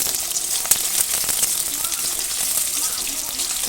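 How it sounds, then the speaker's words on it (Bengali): Chopped green chilli and onion fry in hot oil, giving a loud, continuous sizzle with crackly bursts and occasional stirring, close to the pan. "তার মধ্যে কাঁচা লঙ্কা কুচো দিলাম, এই পেঁয়াজ কুচো দিলাম, দিয়ে একটু ভাজা ভাজা করে নিলাম"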